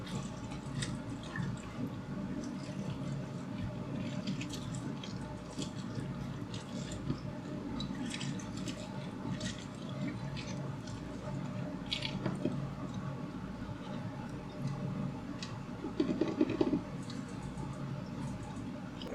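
Oranges are squeezed by hand for agua fresca with soft, wet squishing and dripping noises, faint and close. The sound goes on throughout, with a brief louder burst of squelching near the end.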